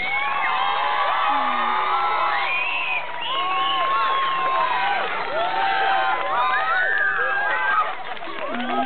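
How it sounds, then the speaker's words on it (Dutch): A crowd cheers and whoops at a Dutch-language inauguration ceremony, with excited shouting voices, including children, swelling and overlapping in a loud, continuous roar. "En dan gaan we een groot applaus voor ons"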